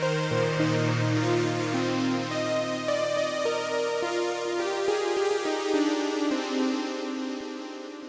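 A plain, dry synthesizer lead from Arturia Pigments, built on an analog engine and a sample engine, plays a sustained melodic line of held notes, steady and fairly loud, with no reverb or echo and no voices.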